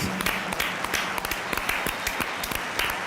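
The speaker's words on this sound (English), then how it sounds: "Who we're going to give a round of applause to." A packed football stadium crowd at the Spanish Supercup match between Athletic Club and FC Barcelona applauds a substituted player, giving a steady distant roar of clapping with scattered sharper claps throughout.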